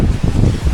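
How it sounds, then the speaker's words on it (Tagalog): Strong sea wind buffets the microphone at a beachfront property, a dense, roaring low rumble with gusty swells, steady and loud throughout with no voices. "Napakalakas po ng hangin"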